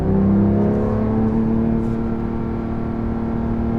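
A Porsche GT3 Touring in sport exhaust mode pulls hard, its engine droning loud and close with a rising, steady harmonic tone that holds for several seconds without any talk.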